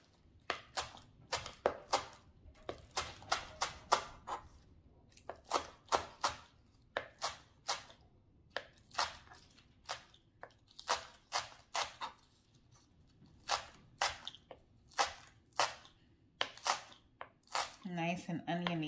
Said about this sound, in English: now I'm going to chop some chives